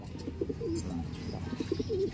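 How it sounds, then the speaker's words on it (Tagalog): Soft, low pigeon coos repeat in short phrases over a steady background murmur, fairly close and moderately quiet. "Kasin naman to, nung bago nating ibon, na si Bato-Bato."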